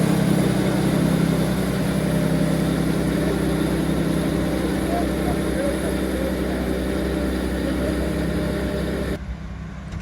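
A potato harvester and tractor working in a field, a continuous loud low engine drone with mechanical rumble, steady throughout and dropping off abruptly at the end.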